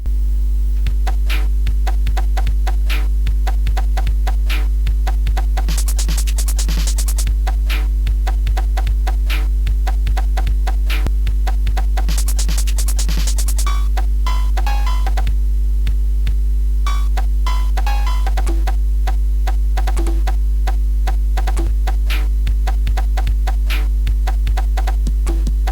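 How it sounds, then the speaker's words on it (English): Micro Latin default song from Micro Rhythm Plus on a Commodore 64, an electronic drum-machine pattern of rapid clicky percussive hits over a constant steady hum, playing alone. "This is Micro Latin, as it says at the bottom there. This does have a different song by default than the first one"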